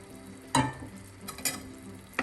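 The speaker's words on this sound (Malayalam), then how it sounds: "പെട്ടെന്ന് തന്നെ ഇളക്കി കൊടുക്കാം." Spoon strokes stir a tomato buttermilk curry (thakkali moru curry) in a pan, producing three distinct scraping knocks over a low, steady sizzle, close up.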